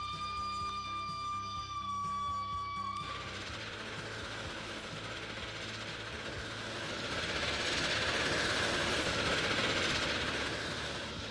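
A steady rumble of trains rolling along in the video game Transport Fever 2, with a constant tonal hum at first giving way to broadband rushing noise that swells louder toward the end.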